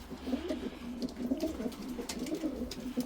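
Several pigeons bred by their keeper coo softly and repeatedly at close range in a low, throaty murmur, with overlapping calls continuing throughout.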